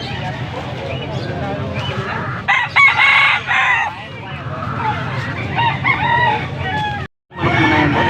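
A rooster crows loudly and near at a chicken market (tiangge) in Angeles, Pampanga, with hens clucking and people talking over the busy market noise.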